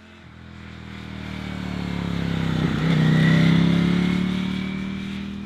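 A motorcycle rides past and accelerates on the road, its engine note swelling from a steady drone to a loud, close rising rev, then easing off as it moves away.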